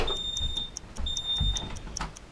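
A household smoke detector sounds during a home fire-alarm test, repeating high electronic beeps in steady bursts, muffled as if heard through a closed door, over low room noise.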